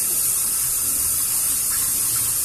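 Tap water runs steadily while dishes are washed at a home sink, a continuous close hiss and splash with no break, without voices.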